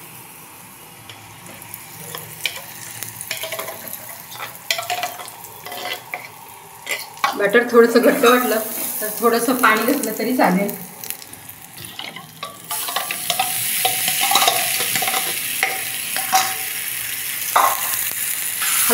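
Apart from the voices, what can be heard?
stirring besan batter in a frying pan with chili-garlic tempering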